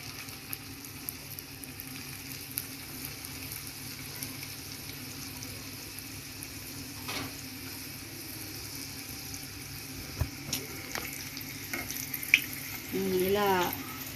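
Food fries in a pan with a steady close sizzle running throughout, and a little stirring and clinking near the end.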